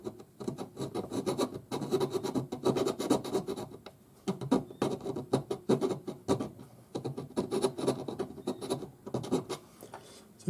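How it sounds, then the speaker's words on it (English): A silver ring for a hinged design is worked with a square jeweler's file, giving close, repeated scraping rasps in quick strokes with brief pauses between bursts. "I'm using a square jeweler's file."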